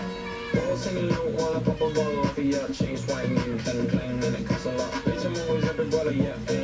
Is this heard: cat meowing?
yes